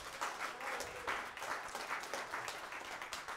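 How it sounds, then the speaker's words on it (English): Church congregation at an Easter service applauding the musicians, a faint, steady patter of many hands clapping at a distance with no break. "Can we give a round of applause to our musicians for today?"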